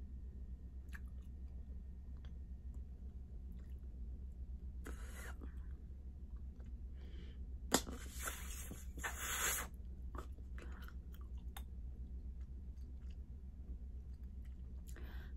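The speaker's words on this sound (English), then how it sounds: "Most of the bubble gum that I chew" Starbucks mint bubble gum chewed up close, soft wet squishing and smacking in irregular bursts with a few louder snaps, quiet between them over a low steady hum.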